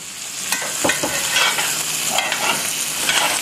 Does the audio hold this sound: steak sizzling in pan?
yes